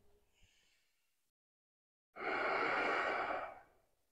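During a yoga pose, one deep, audible exhale lasts over a second after a brief quiet pause, preceded by a softer breath near the start, close and alone without talk.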